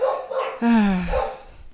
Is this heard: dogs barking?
yes